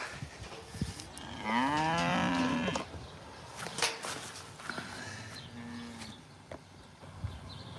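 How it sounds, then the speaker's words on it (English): Farm cows let out a long, loud, close moo with a rising, wavering pitch, followed by a shorter second moo a few seconds later amid quiet rustling and footsteps. "Good work, cows."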